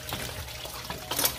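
Coolant draining from a 1996 Mustang GT engine, a faint steady liquid trickle and splash near the car with a brighter splatter near the end and no talking over it.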